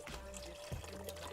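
Water pouring into a soup pot during dinner-party cooking, a quiet soft trickle and splash with a brief heavier slosh midway.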